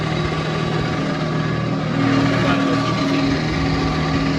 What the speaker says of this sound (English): Now I'm gonna turn the lathe back on. I'm gonna spin it back up to speed